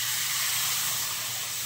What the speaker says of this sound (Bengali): এবার এতে কিছুটা জল দিয়ে দিলাম।